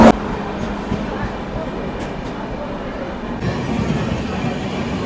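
A train pulls into a station platform on a trip from Bangalore to Tirupati, giving a steady rolling rumble and clatter of rail cars with a brief sharp burst at the start, while people talk nearby.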